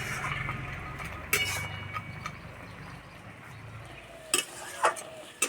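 Lentil dumplings made from urad dal are dropped into a simmering tomato curry, giving soft plops and a few spoon clinks against the pot over a low bubbling hiss.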